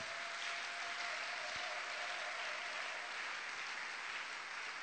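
A church congregation applauds and cheers God during a Sunday morning service, a steady, dense wash of clapping that holds evenly from start to finish with no break.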